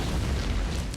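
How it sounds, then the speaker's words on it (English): A grenade detonates in the Factorio Pyanodons modded game, a dense low rumbling boom that fills the whole second at steady loudness with no voices. "Grenade time."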